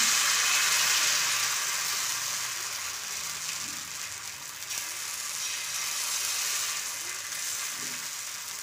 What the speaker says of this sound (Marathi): तव्यावर तेल टाकून घेतलं आहे, गरम झालेलं आहे। आता आपण हे टाकून घेऊ।